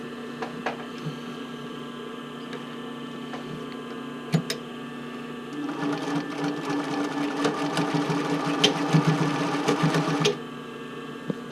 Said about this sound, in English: I'm going to stitch this down. And here we can actually switch back to a straight stitch.